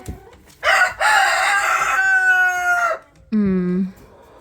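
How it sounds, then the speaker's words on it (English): A hen in a laying box calls loudly close by in long, drawn-out squawking clucks, a strained cackle followed by a shorter, lower call after a pause. "I've actually got a hen in the laying box right now."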